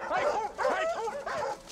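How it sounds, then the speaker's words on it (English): Sled dogs dedicated to pulling, on a film set in snowy country, yip and whine in excited overlapping bursts, fairly close and continuous, with no words spoken. "We also have dogs that are dedicated to just sledding."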